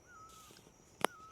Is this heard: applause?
no